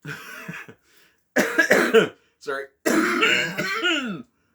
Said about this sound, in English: before I fall over dead from coughing my lung up